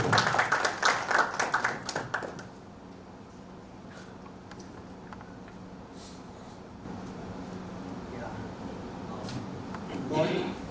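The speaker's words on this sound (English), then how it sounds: "let us welcome Mr. Albert Cheng with a warm round of applause" An audience at a memorandum-of-understanding signing ceremony claps to welcome a speaker, a dense burst of applause lasting about two seconds that quickly fades into a quiet room hum with faint scattered knocks.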